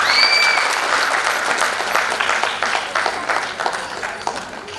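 Audience at a family function for a Ved Vyas Yagnopavit Sanskar ceremony breaking into strong, steady applause that gradually tapers, with a faint tone at the start.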